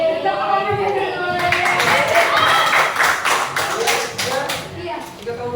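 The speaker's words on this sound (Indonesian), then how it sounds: "Tepuk tangan ya, dulu." A school class claps hands together in a lively burst of overlapping claps that builds and then tapers off, with voices mixed in beneath.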